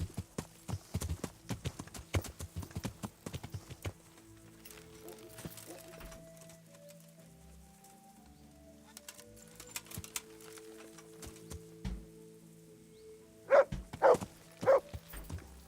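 A horse's hooves clip-clop in a steady rhythmic trot while riding in Kingdom Come: Deliverance, loud at first, fading to quiet, then a few sharp hoofbeats return near the end.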